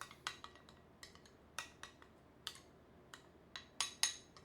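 A spoon clinks and scrapes against a bowl while talkkunajauho flour is stirred into Viili fermented milk, giving irregular light taps and clicks, quiet and close, with no voices.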